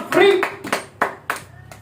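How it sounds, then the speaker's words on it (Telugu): A church congregation claps loudly together in a few sharp bursts, with a voice rising briefly at the start. "గట్టిగా చప్పట్లు కొడదాం."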